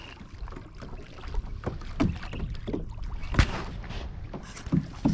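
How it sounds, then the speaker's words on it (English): A kayak (Advanced Elements 120 angler model) glides along the Rio Grande, with close paddle splashes and water sloshing against the hull in an irregular rhythm, plus light wind noise on the microphone. "Just cruising along in the kayak,"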